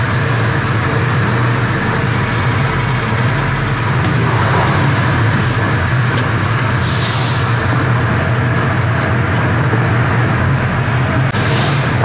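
A car rolls forward after its brakes have been repaired, with a steady low engine and road rumble and two brief, high hissing squeals from the brakes partway through.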